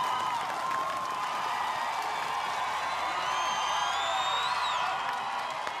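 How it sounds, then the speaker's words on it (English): Spectators roar and whoop at an Australian Ninja Warrior course, a steady wash of cheering, clapping and high-pitched shouts that holds at a fairly even level throughout, with a few whistling cries rising above it. "a big roar from the crowd"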